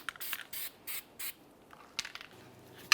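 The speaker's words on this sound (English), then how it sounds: "Apply copper anti-seize to this area." Copper anti-seize sprayed onto brake parts comes in several short, sharp hissing bursts from a close aerosol can, the first four evenly spaced and the rest more scattered, with faint clicks between them.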